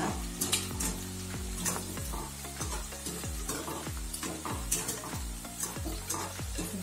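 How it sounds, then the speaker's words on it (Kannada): Okra fries in a pan, a steady close sizzle under repeated scraping and stirring strokes of a spoon against the pan, rhythmic and continuous throughout, with no speech. "ಈ ಬೆಂಡೆಕಾಯನ್ನು ಹಾಕಿದ ಕೂಡಲೇ ಸ್ಪೂನ್ ಹಾಕಬಾರ್ದು, ಸ್ವಲ್ಪ ಫ್ರೈ ಆಗಬೇಕು"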